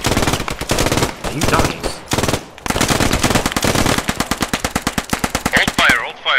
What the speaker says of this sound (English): Let me set up the MG.